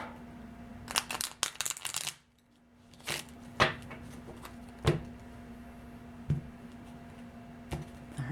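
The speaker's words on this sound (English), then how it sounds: "I'm going to shuffle one more time." Tarot cards are shuffled nearby, a quick flurry of riffling snaps followed by a pause and then a series of separate taps and slaps, quiet and with no talking.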